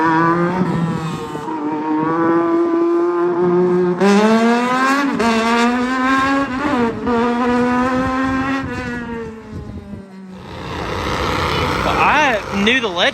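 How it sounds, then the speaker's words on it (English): Legends race car roaring past at Charlotte Motor Speedway, its engine note climbing and falling as it goes by, loud and close, with other cars droning around the oval. "I knew the Legends cars, like the one that just went around"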